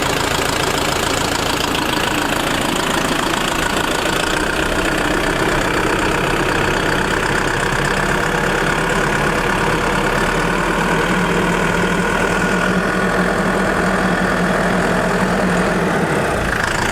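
A new DTZ 504 tractor's turbocharged diesel engine runs loudly and steadily up close, a dense knocking rumble with a rushing, whooshing exhaust roar throughout.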